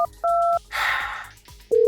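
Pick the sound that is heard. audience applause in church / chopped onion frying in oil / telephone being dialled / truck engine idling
telephone being dialled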